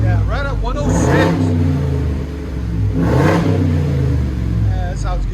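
A 2021 Ford F-350 pickup with a 7.3L gas V8 and an aftermarket exhaust revs loudly up close in two big surges that fall back toward idle. Voices talk over the engine.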